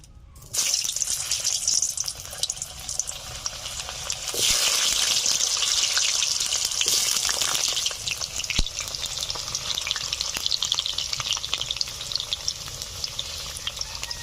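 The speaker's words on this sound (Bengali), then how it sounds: "আলুগুলোকে একটু ভেজে নেব।" Potatoes frying in hot pure mustard oil, a loud continuous sizzle that swells partway through, with occasional stirring and clatter and no talk.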